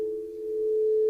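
Crystal singing bowls tuned to 432 Hz hold a steady, pure sustained tone with a faint shimmer of overtones, ringing alone without voices.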